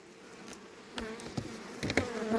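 Honey bees buzz steadily in an opened hive high in the mountains during a late honey harvest, a dense close drone with a few louder swells as bees pass near.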